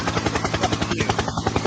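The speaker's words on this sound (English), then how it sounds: "Helicopter." Helicopter rotor chopping close and loud, a steady rapid thumping pulse with engine whine running throughout, no voices over it.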